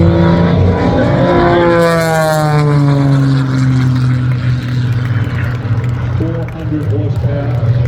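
A 400-horsepower light aerobatic plane roars at an airshow during a ground tail slide, its loud propeller engine sweeping in pitch, with a commentator talking over it.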